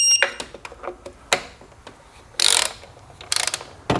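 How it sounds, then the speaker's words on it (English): Torque wrench ratcheting down intake fasteners on a Nissan engine, close crisp clicking in short bursts with a couple of louder rasping ratchet sweeps. "To torque the 6 fasteners holding down the intake, I'm going to start in the middle."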